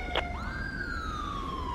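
A police or ambulance siren wails inside the GTA 5 video game, one loud rising then slowly falling tone after a brief chirp, steady over a low background hum.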